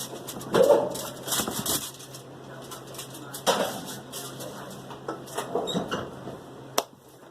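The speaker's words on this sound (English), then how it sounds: "for now, it's going in the oven" A baking dish of cheesy bacon macaroni and cheese slides into an oven with a few sharp clatters and knocks of metal and glass. Separate clunks are spread over several seconds against a quiet kitchen background.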